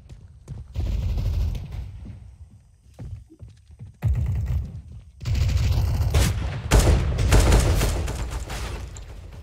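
CS:GO gunfire on the lake map, several loud bursts and volleys of shots in quick succession with short lulls between them, close and heavy toward the end.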